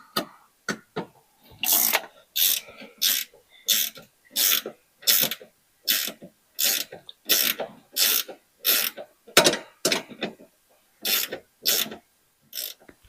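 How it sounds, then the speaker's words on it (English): A ratchet wrench loosens four 3/8 bolts holding a car gear shifter, giving a long run of close, loud, evenly spaced clicking bursts separated by short pauses. "I'm going to go ahead and remove the shifter by taking out these 4 3/8 bolts"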